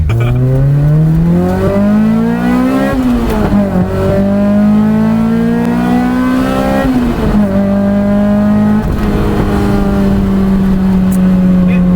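A Lotus mid-engine sports car's engine, mounted right behind the driver's head, revs loudly and continuously, pitch climbing through the gears with brief drops at each shift, close and dominant throughout.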